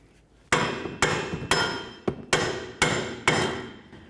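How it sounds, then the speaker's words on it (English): A hammer strikes the back of the rear wheel hub bearing assembly on a 2004-2012 Chevy Malibu to knock it loose. Seven sharp, close metallic blows land at a steady pace of about two per second, each ringing out briefly. "we're going to take a hammer and we're going to try to bonk from the back side of this and just try to help it out"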